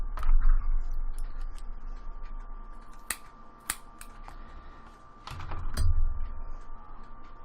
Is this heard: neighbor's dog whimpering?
no